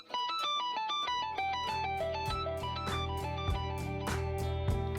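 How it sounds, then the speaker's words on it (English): An electric guitar run through a whammy pedal set an octave up gives a bright, synth-like tone, playing a quick melodic line of rhythmic plucked notes over a sustained low pad, loud and without talk. "the very last cherry on top was the whammy pedal, taking it up an octave to make it sound almost more like a synth"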